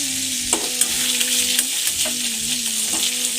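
Chicken-fried leftover oil sizzles loudly in a pan, with a few spatula scrapes and taps over the steady hiss, close up and with no talk.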